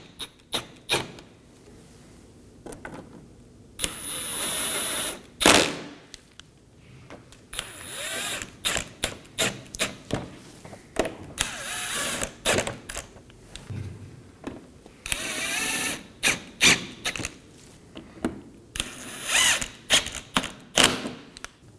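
Bottom bumper fasteners on a 2020s Toyota Corolla being snugged down with a ratcheting tool, giving repeated short bursts of quick clicking separated by brief pauses, close up and alone.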